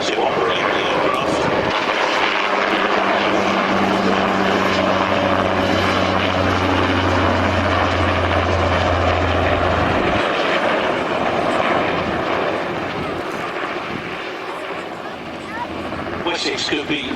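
A Westland Wessex helicopter flies at the Fly Navy airshow at Shuttleworth, Old Warden. Its rotor and turbine make a steady, loud drone throughout while a commentator talks over it.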